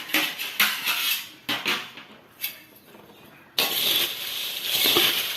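A homemade mixture snack being tossed in a bowl produces dry rattling and clinking bursts, close and lively, with a brief pause before a sustained stretch of rustling crunchy pieces and no speech.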